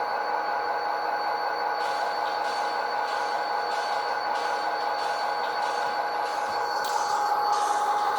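A Proto 2000 SD60 model locomotive with a Tsunami 2 sound decoder sits idling, giving a steady loud diesel drone with a high whine and faint rhythmic clanks, with no talk.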